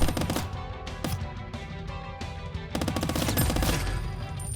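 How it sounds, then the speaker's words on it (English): A gun fires in the video game Squirrel with a Gun. Rapid, punchy bursts of shots repeat close up, turning into denser sustained automatic fire in the second half. "Oh, there's actually not that much recoil with this gun."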